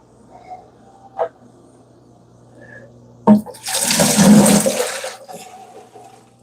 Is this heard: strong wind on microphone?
no